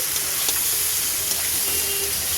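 Steady crackling sizzle of spices frying in hot oil for dalia khichdi, continuous and fairly loud, with a few faint clinks.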